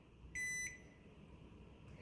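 Oven control panel gives a single short electronic beep while the proof setting is selected, faint in a quiet kitchen.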